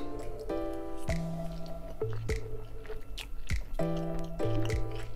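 Someone bites and chews Jamaican-style corned beef pasta close up, with wet squishy mouth sounds over background music, and no one speaks.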